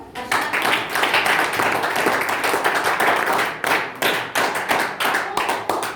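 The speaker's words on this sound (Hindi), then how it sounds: "ताली बजा दो।" A group in a Marathi grammar class clapping together, a loud close run of hand claps that goes on for about six seconds and breaks into separate, rhythmic bursts toward the end.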